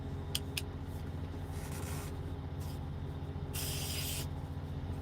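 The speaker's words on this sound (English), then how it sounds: "Got me some spray on deodorant out of it though." A steady aerosol hiss from a spray deodorant can runs throughout, close and continuous, with a few sharper bursts of spray near the start and toward the end.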